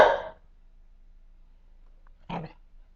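A dog barking indoors during a computer tutorial: one loud, close bark at the start, then quiet, then a second shorter, gruffer bark about two seconds later, with no talking over it.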